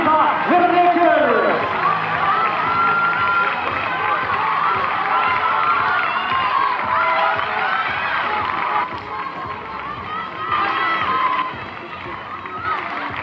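A stadium crowd cheers and shouts for a leading girl in the under-18 800 m race at a national athletics championship as she nears the finish. The cheering swells and holds under a loud announcer's continuous commentary.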